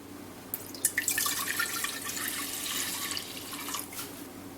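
Cider vinegar pours steadily into a measuring cup for a few seconds, splashing softly at first and then running smoothly, close up with no talking.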